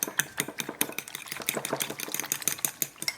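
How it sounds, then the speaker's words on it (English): Eggs being whisked in a bowl: fast, rhythmic ticking and clinking of the whisk against the bowl's side, close and steady for a few seconds, with no voices. "Whisk it in there."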